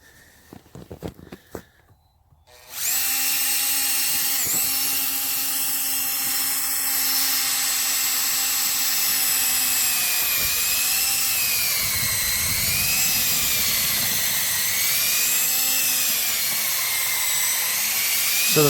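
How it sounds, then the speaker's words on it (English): A power drill fitted with an auger bit bores into frozen soil about three inches deep, a steady high whine with strong harmonics running loud and continuous after a few seconds of handling noise. "So I'm going to get the drill here"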